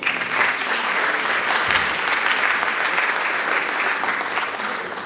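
An audience applauds at the opening of a spring Turkish classical music choir concert, steady, dense clapping from a full hall that holds throughout and eases slightly toward the end.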